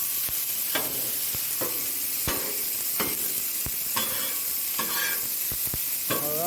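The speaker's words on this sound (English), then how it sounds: "that bacon's sizzling" Bacon sizzles and crackles steadily on a hot griddle, with a few sharp scrapes and clicks of a utensil stirring it.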